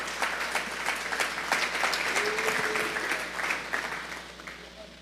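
A church congregation bursts into applause during a sermon, a moderate wave of clapping that swells and then gradually thins out.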